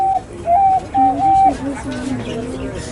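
A small bird coos in a series of soft, repeated tonal calls, close and fairly loud, fading into quieter background noise toward the end.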